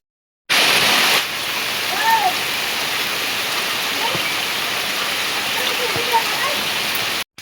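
Heavy rainwater rushing and pouring outside during a downpour, a dense steady roar of flowing water heard close with no gaps, starting abruptly and cutting off at the end.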